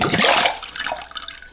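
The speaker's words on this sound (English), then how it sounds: "I'm gonna pull the mesh away and you'll be able to see all the water fall right through" Water pours through a mesh and falls away in a short splashing gush during a surface tension experiment, loud and close at first, then quickly thinning to a trickle.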